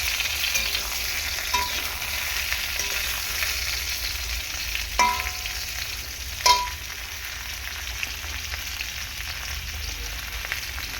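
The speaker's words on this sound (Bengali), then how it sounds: "বেগুনটাকে ভালো করে এরকমভাবে ভেজে নেব তেল দিয়ে" Eggplant pieces frying in oil in a pan, giving a steady broadband sizzle throughout with a few sharp utensil clinks and stirring scrapes, close and moderately loud, no voices.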